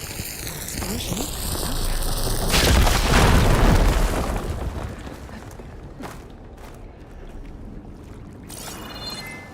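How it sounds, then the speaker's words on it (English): An explosion in the video game Horizon Forbidden West, heard as a rising whoosh that builds into a heavy, rumbling blast. Debris and water-like splashing sounds follow and fade over several seconds. "Explosion."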